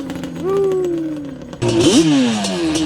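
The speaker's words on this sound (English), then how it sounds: "Woo! Man, that thing is nasty. Tires spinning." A Yamaha Banshee ATV engine revs hard, its harmonic whine rising and falling, then a loud burst of spinning-tire roar and gritty spray joins in about halfway through and continues with the engine to the end.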